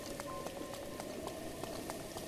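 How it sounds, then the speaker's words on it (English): Rain falls in The Legend of Zelda, a steady hiss of patter with scattered droplet taps, even and continuous with no talk. "Oh, I don't like rainy weather that much."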